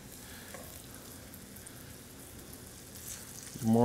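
Turkey tenders sizzle and crackle steadily in a hot pan as they are laid in one by one, with a louder, fuller burst of frying noise at the very end.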